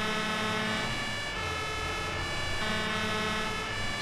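A large fire truck's siren wails continuously and loudly, with a steady rising-and-falling tone over a low engine rumble as the truck drives along; no talk is heard.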